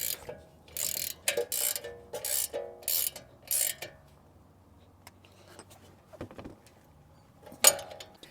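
Wrenches ratchet and click on a ball joint nut of a 2019 or later Chevy Silverado during CV axle work, in short bursts of sharp metallic clicks followed by quieter scattered taps and one final clack.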